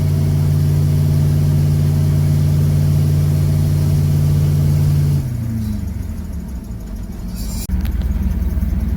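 An M1028A2 CUCV dually pickup truck drives with a loud, steady engine drone, then the revs drop as the automatic transmission shifts itself into second gear. The lower engine note carries on, and there is no talking.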